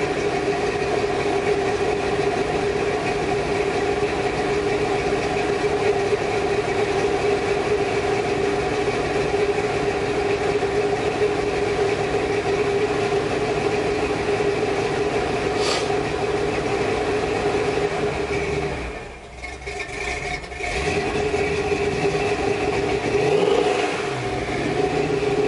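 A 1984 truck engine idles steadily while warming up after plug repairs, a constant close drone with a brief dip near the end, no voices.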